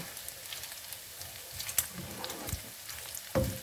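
Bacon frying in oil in a pan, a soft steady crackle and sizzle with occasional sharper pops.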